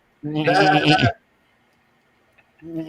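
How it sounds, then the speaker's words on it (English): A sheep bleats once, a loud, close, wavering cry lasting nearly a second, followed by near silence and the start of another bleat at the end. "She heard a sheep."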